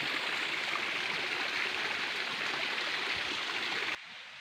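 A spring-fed stream at Tirto Sengklik in Kalidawir, Tulungagung, rushes steadily with a broad, even wash of flowing water close by, then drops abruptly quieter near the end.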